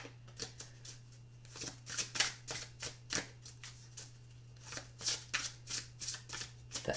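A tarot card deck is shuffled by hand, giving repeated crisp riffling bursts in an uneven rhythm, close and quiet, with a low steady hum underneath and no talking.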